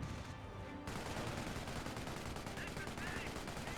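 Concentrated automatic gunfire in a 4v4 online war video game match, a dense, loud, continuous burst of overlapping shots with no break across the whole stretch.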